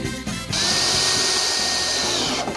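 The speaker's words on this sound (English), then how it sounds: "You're a braver man than me, letting Sally near a drill" A power drill runs steadily for about two seconds after a brief start, loud and close, with a high whine held over a busy motor buzz, while moving belongings into a family home.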